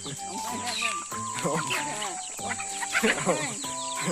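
Chickens cluck and squawk close by in repeated bursts, with people talking over and between them.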